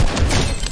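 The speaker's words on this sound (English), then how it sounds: "Oh, it's a turret battle." Automated turrets firing in a Fortnite mech battle, a dense, continuous barrage of overlapping shots and thuds, loud and close for under a second with no talk.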